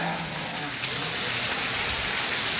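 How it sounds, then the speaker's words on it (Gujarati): Steady heavy rain falls with larger drops, a dense continuous hiss that stays even and loud throughout, with no distinct voices. "વરસાદની થોડીક ધાર વધી છે અને છાંટા મોટા થઈ ગયા છે"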